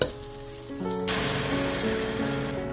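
Rice frying in a pan for pulao makes a soft, continuous sizzle that grows fuller after about a second, heard close and fairly quiet with some faint background hum.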